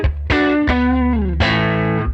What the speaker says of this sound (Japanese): これを少し軽めの歪み、なんつうのクランチっぽいっていうの